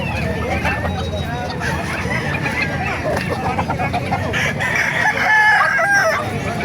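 Kelso gamecock roosters crowing and clucking in a busy crowd in Calumpit, Bulacan, with people chattering and talking over the birds throughout at a steady, close level.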